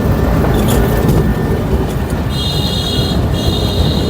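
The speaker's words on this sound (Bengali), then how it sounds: "ট্রেন যাচ্ছে" A train passes close by, with a loud continuous rumble and roar that holds steady throughout, accompanied by faint high-pitched squeals.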